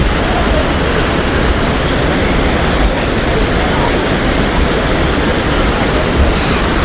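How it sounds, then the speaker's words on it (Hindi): Kempty Falls waterfall in Mussoorie, Uttarakhand, pours in a loud, steady, close roar of falling water that fills the whole stretch without a break. "ये देखो पानी कैसा गिर रहा है"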